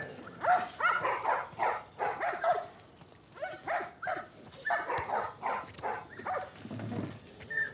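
A dog barks repeatedly in quick bursts at a moderate distance, the barks coming in irregular clusters with short pauses.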